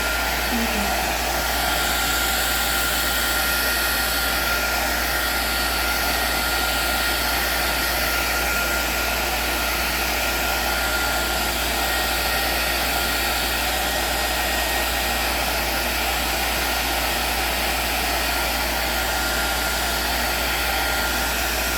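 A hair dryer blows steadily and loudly throughout, a constant whooshing roar with a low hum underneath.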